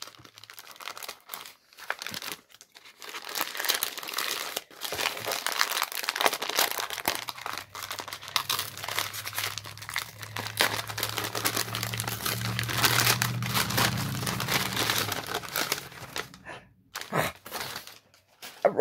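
Wrapping from a Christmas mail package crinkles and tears as it is opened, a steady close rustling that swells and fades in bursts, with a low hum underneath for a stretch and no talk.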